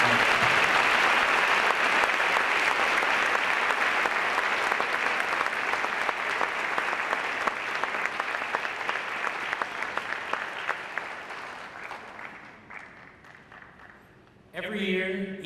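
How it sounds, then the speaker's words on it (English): An audience at a high school senior awards ceremony gives summa cum laude graduates a round of applause, steady dense clapping that gradually fades out, followed by a brief burst of sound at the very end. "please join us in giving a round of applause for the summa cum laude."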